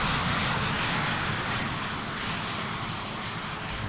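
A steady, loud roar of aircraft engines and a broad rushing drone in the Infinite Flight game carry on without a break. No voices are heard over it.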